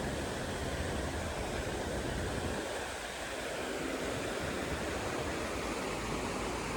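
Steady broadband rush of a distant waterfall in the Lauterbrunnen valley, Switzerland, a constant even roar that fills the whole stretch with no break.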